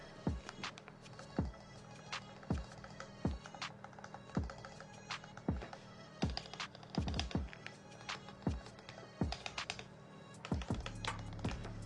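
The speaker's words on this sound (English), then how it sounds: "I don't hear rattle, but I hear this crinkling." Typing on a Space 65 Cybervoyager R2 keyboard with Tangerine switches, a steady run of close, crisp keystroke clacks with faint crinkling texture throughout, no voices.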